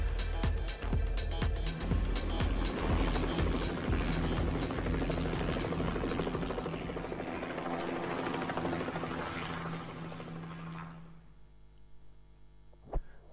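A helicopter in the video game Hitman 2, on the Hokkaido level: a loud, steady rotor and engine drone holds for about eleven seconds, then cuts out, leaving near silence and one faint click.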